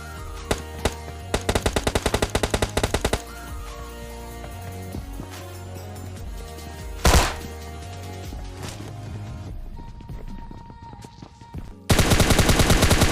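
Gunfire from the mobile battle royale game PUBG Mobile Lite: rapid automatic bursts at the start, a single loud blast midway, scattered shots, then a dense fast volley closing out the sequence.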